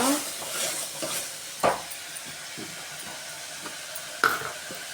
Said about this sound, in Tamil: மொத்தமாக நல்லா வதக்கிக்கோங்க.